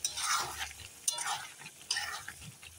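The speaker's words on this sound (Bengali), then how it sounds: "এখন আমি নেড়ে টেড়ে এখন একটু ঢাকা দিয়ে ঢেকে দিব" Spiced meat in a pot is stirred and scraped in a few quiet, uneven strokes, with soft rasping scrapes close by and faint sizzling underneath.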